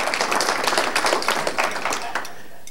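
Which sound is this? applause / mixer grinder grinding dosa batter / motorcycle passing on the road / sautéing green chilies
applause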